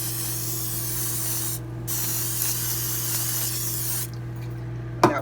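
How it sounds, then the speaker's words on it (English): A continuous hissing spray from an olive oil cooking spray can onto food in an air fryer, pausing briefly twice, over a steady background hum, ending with a short clack. "I'm going to go ahead and spray it"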